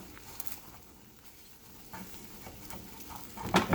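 Eggs frying in a pan for breakfast biscuit sandwiches, a faint crackling sizzle with light scraping and stirring that grows louder near the end, no talk.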